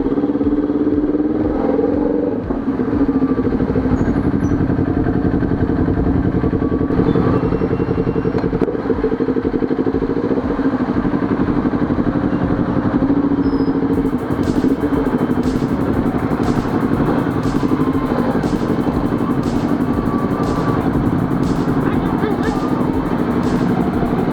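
A Kawasaki Ninja 400 motorcycle rides through heavy traffic, its engine droning steadily and close for the whole stretch, with wind rush, passing vehicles and occasional clatter around it; faint voices come and go in the background.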